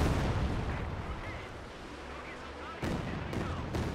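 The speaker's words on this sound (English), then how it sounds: "And there you go, bombarding the base here." Katyusha rocket artillery bombards a base in the video game Company of Heroes 2, a dense low rumble of blasts and booms rolling on continuously, with a sharper impact near the end, somewhat distant and muffled.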